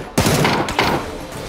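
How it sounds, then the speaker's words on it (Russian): Two sharp, loud gunshots in the battle royale video game PUBG, about half a second apart, each with a broad crack and a brief ringing tail. "Что за выстрелы у меня уродские?"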